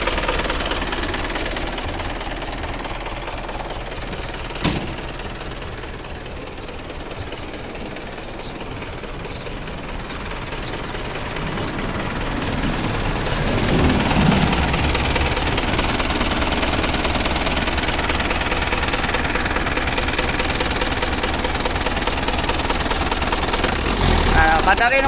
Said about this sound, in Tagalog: pinapandar ko na guys para matining ang andar niyang makina guys, para walang palyar, magandang hatak